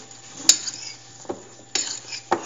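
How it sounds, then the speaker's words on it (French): A utensil clinks and scrapes against a bowl a few times while sliced apples are stirred with lemon juice for an apple crumble, close and sparse with no talk. "Je mélange le tout."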